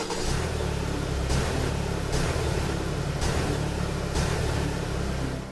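Layered car engine loop from a racing video game, a constant droning mid-pitched engine tone with little variation, repeating in a steady loop with faint periodic swells, loud and alone without any talking.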